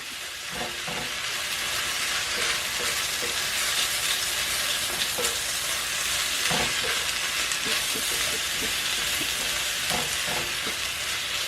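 Two cloves of garlic and chopped ginger frying in a pan for aloo gobi soup, a constant loud hissing sizzle broken by repeated scraping and tossing sounds.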